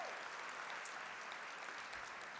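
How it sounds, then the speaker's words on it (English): Steady audience applause at an education conference general session, a dense continuous patter of clapping that stays even and moderately distant for a couple of seconds. "let's give another round of applause for that beautiful poem"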